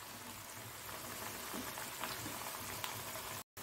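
Bitter gourd slices in a Mangalore-style fry crackle and bubble in hot oil in a pan, a steady close sizzle with no talk, ending in a brief dropout.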